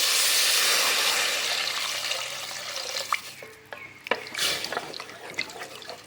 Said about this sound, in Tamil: இந்த குழம்புக்கு தேவையான அளவுக்கு தண்ணி சேர்த்துக்கலாம்.